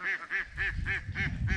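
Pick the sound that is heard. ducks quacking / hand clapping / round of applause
ducks quacking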